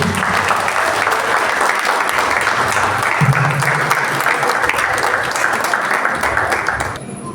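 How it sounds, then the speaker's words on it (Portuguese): A church congregation applauds during a service, with dense, steady, loud clapping sustained for about seven seconds before it drops away at the end. "Vamos receber o pastor Felipe com a salva de palmas para Jesus?"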